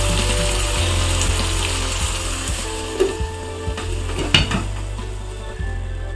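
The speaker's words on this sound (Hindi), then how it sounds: "चिकन को हम बीच बीच में खोल के देखते रहेंगे और इसे चलाते रहेंगे" Desi country chicken masala cooks in a pan over a low flame with a steady sizzle, broken by a few sharp clatters of a spoon stirring and scraping against the metal.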